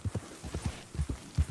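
Hooves of a big brown horse clip-clop in the Red Dead Redemption 2 video game, a steady run of close, moderately loud thudding steps in an uneven trotting rhythm with no talk over them.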